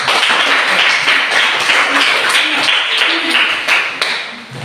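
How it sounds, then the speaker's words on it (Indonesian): A classroom group claps for a team of students, a dense steady patter of many hands lasting the whole stretch at even loudness, with a few scattered voices and cheers mixed in. "Tepuk tangan buat kelompok 4."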